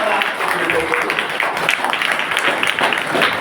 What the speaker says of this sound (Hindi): एक बार जोरदार ताली बजा दीजिए सिनेमा के लिए।